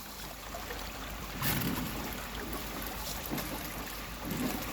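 A homemade low-head water turbine spins in flowing water after debris is cleared from it, giving a steady rushing, watery wash with a few louder surges, close by and without talk.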